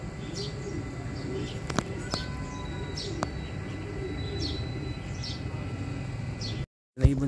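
Soft, low cooing from a racing pigeon repeats at intervals over a steady background hum, with a few faint chirps and a brief drop to silence near the end.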